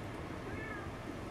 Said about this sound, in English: He's meowing his little head off.